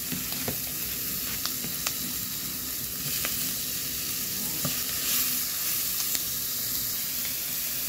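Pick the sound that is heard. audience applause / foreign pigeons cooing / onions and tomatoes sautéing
onions and tomatoes sautéing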